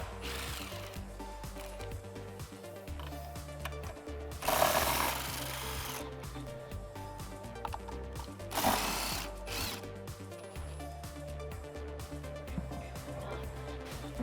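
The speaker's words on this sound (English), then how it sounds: "I'm using our spline tool for our lug nuts as well as a 21mm socket" A ratchet with a spline tool and 21mm socket loosens the lug nuts on a Jeep Wrangler spare tire, giving steady mechanical clicking throughout, with two louder grinding bursts where the nuts break free.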